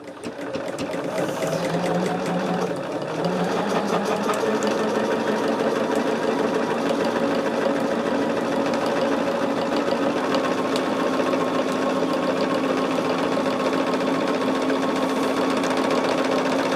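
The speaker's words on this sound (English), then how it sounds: "right now what I'm doing is quilting the bag top" A sewing machine quilts a bag top in a continuous, loud, rapid mechanical chatter that runs steadily throughout at close range.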